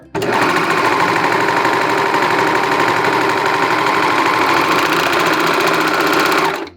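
A sewing machine runs steadily and loud for several seconds, stitching the short edge of a rib-knit sock top band folded right sides together, with no pauses and no talk.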